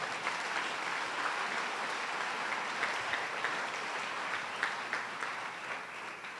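A church congregation applauds during a Sunday service, a steady, moderately distant round of clapping with occasional sharper individual claps.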